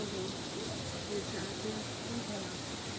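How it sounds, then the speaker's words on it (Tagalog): Steady, dense hiss of heavy rain pouring down, constant and close, with faint voices murmuring underneath. "Sobrang lakas ng ulan"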